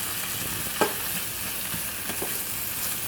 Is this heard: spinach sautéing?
yes